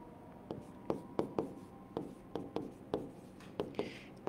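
A pen writes a sentence on paper during an English lesson, giving close, quiet taps and short scratches in an uneven but steady rhythm with no talk.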